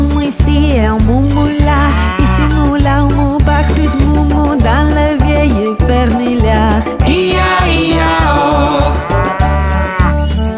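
A French children's farm song plays loudly, with sung vocals imitating cow moos over a bouncy, rhythmic backing and jingling accents throughout.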